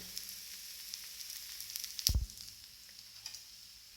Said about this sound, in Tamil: இப்போ எண்ணெய் ஊற்றிட்டேன். இது கொஞ்சம் நேரம் வேகட்டும்.